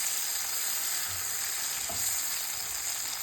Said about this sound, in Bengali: এখন এটাকে আমি কষিয়ে নেব।